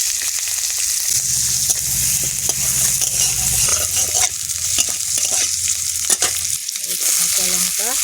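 Onions frying in hot oil for an egg, broccoli and greens dish, a steady, close, loud sizzle with occasional stirring clinks running throughout without speech.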